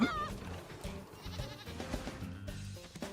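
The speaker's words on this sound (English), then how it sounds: "Oh, I also caught a goat. We have a goat in the pen now." A goat in the video game Subnautica: Below Zero bleats briefly at the start, followed by quieter bleats over a busy background of low tones; no talking.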